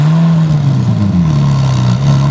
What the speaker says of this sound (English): what you're gonna hear is the roar of the Ferrari F58 Speciale